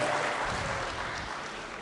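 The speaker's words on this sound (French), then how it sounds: "Sous vos applaudissements" An audience at a final-round awards event applauds in a continuous wash of clapping, fairly loud and even, tapering slightly toward the end.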